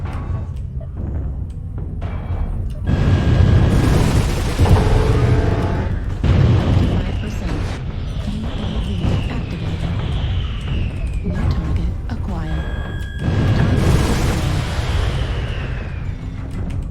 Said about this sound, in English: Got an airstrike on you right there, boss